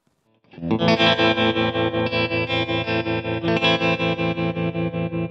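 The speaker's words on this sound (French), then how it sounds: "on va enclencher un trémolo et on va enclencher une réverb" A cheap electric guitar with twangy tone played through tremolo and reverb effects, sustained strummed chords pulsing in a steady rhythmic throb, loud and close with no talk.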